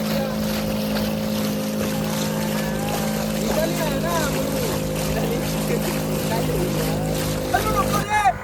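A boat moves across choppy water with large waves, its steady motor drone and wind noise running throughout while people talk and shout nearby.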